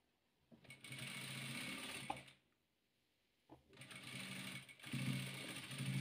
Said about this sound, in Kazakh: Енді осыны тігіп аламыз.